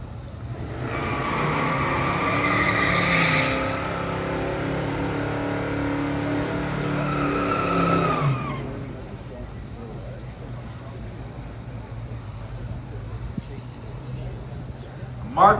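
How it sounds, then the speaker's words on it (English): A 1970 Chevelle SS396 and a 1969 Dart Swinger 340 launch in a pure stock drag race, their V8 engines roaring and revving loudly for several seconds before the sound cuts off, leaving quieter ambient noise. "let's check out our featured drag race"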